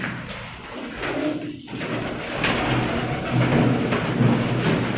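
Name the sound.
breeder pigeons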